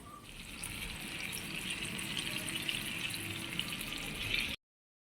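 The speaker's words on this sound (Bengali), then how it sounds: "আমি বাসনগুলো ধুয়ে নিই।" Tap water runs steadily while dishes are washed in a kitchen, a close, continuous gushing splash that stops abruptly at the end.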